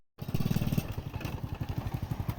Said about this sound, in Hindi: हां किराए दी मोटरसाइकिल है